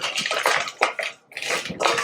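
Boiling hot cream is poured slowly from a pot into a bowl of chocolate, a close, loud splashing gush with clinks of cookware and a brief pause partway through.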